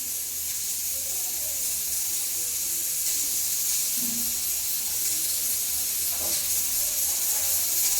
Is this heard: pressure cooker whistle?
yes